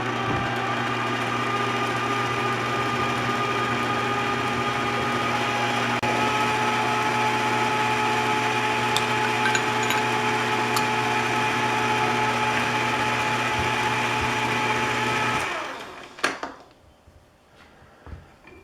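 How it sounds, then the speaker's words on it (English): A power drill drills a center hole into the end of a pipe, giving a steady, loud whining motor drone that runs evenly for a long stretch, then cuts off and spins down, followed by a few clunks. "drill a center hole in the end here"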